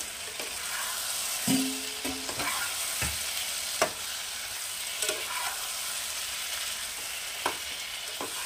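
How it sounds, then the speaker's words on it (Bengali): Boiled potatoes stirred into fried spice masala for a Bengali winter vegetable curry, a continuous close sizzle broken by several sharp scrapes and knocks of a spatula against the pan. "এবার আমি দিয়ে দেব সিদ্ধ আলুগুলো।"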